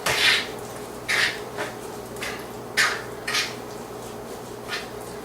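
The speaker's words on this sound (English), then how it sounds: "we're just mixing it all the way through and it's going to be a nice dough" Cake dough being mixed in a Tupperware bowl for a cherry chip apple cake: irregular scraping and knocking strokes of a utensil against the plastic bowl, close by, with quiet pauses between them.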